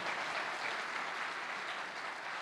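A church congregation applauds during a morning Baptist service, dense even clapping from many hands sustained throughout, heard somewhat distant and without speech.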